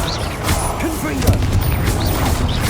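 Confringo fire spell blasts in the Hogwarts Legacy video game land amid continuous battle noise, with booming impacts and crackling effects layered over game music.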